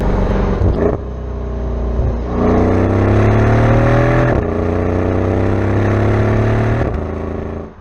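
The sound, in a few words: Mercedes CL 63 AMG twin-turbo V8 engine rumble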